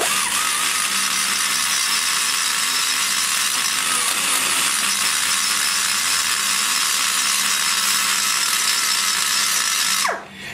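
A rotary burr in a high-speed die grinder works the combustion chamber of a Holden 305 cylinder head, a loud steady close whine with a gritty edge that winds down sharply at the end, with no talking.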